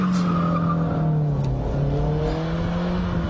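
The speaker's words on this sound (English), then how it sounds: "swing the wheel over sharply, yank the handbrake, the rear wheels will lock as the back end slides round" A front-wheel-drive car slides through a handbrake turn with its locked rear wheels scrubbing, giving a steady loud tire squeal over the droning engine, continuous throughout with no talking.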